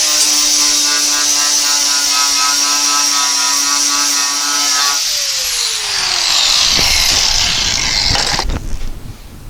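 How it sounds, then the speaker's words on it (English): An angle grinder fitted with a flap disc cleans up rusty metal on a Porsche 912 front end. It whines loudly and steadily at a constant pitch, then bites into the metal with a harsher scraping grind before spinning down near the end. "I'll go there with the flap disc and the grinder and clean that up."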